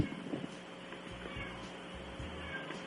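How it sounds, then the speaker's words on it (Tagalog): A cat meows faintly a few times in the distance over a low background hum. "May pusa, naririnig ko."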